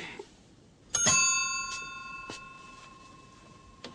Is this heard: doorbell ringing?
yes